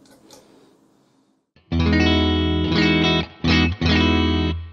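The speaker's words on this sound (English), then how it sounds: "Now let's bring in my preset on this Universal Audio Dream pedal. And this is based on a Fender style amp." Electric guitar played through a Universal Audio Dream pedal set to a Fender '65 Deluxe Reverb amp preset: after a faint lead-in, loud sustained chords ring out in several strummed bursts with brief gaps, fading at the end.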